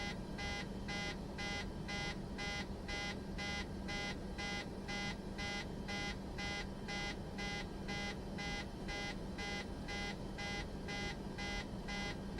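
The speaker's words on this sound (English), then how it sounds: "I wonder if it's beeping because of the previous damage that isn't repaired." Cockpit alert in a Boeing 737 in the flight simulator game MSFS 2024, a steady, evenly pulsing electronic beep repeating about three times a second, unbroken and alone without talk.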